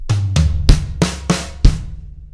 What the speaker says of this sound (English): the first triplet starts with the rack tom, then the floor tom, then a kick, and the second triplet is snare drum